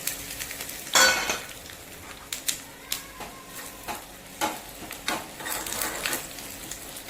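Spices crackling in about two spoons of hot oil in a small tadka ladle for Bengali-style arhar dal, with soft sizzling broken by a sharp burst and scattered pops and clinks, close by and moderately quiet, no talk.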